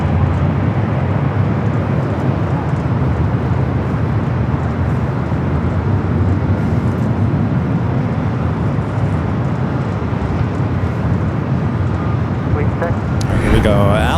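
Boeing 747-8 freighter of AeroUnion landing on the south runway at Los Angeles International Airport, a steady broadband roar of jet engines and wind noise running throughout, with a brief rising tonal whine near the end.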